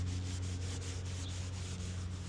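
Optimum Ferrex clay bar rubbing across the black paint of a GMC, a steady, close, soft scrubbing hiss with faint repeated strokes and a low constant hum beneath, no voices.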